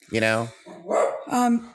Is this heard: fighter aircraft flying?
no